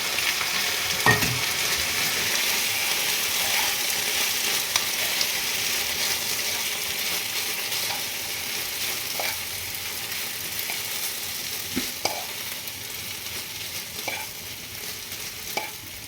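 Sabudana (tapioca pearls) fries in a pan on an induction cooktop while being stirred, a steady soft sizzle running throughout, punctuated by occasional scrapes and clicks of the spoon against the pan.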